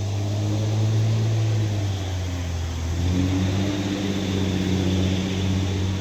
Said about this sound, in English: That's a big ass truck.